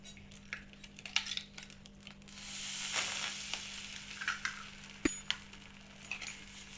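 An egg dropped into a ladle of rice-flour batter for chitoi pitha sizzles softly in a hot pan, a quiet, close crackle broken by light metallic clinks of utensils.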